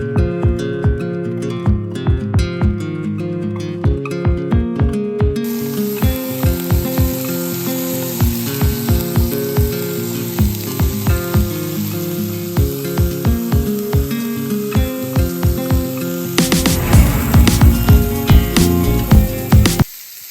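Steaks sizzle and fry on a deluxe electric griddle and grille, a steady close hiss with tapping and scraping of a utensil running throughout, turning louder and busier near the end.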